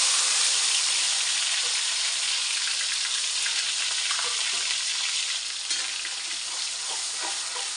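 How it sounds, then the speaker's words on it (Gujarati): Tomatoes fry in 3–4 spoonfuls of hot oil with spices for a fish curry, giving a steady, loud, close sizzle with faint stirring scrapes throughout and no voices. "અને ત્યારબાદ એની અંદર હું આ ટામેટાં નાખી દઈશ"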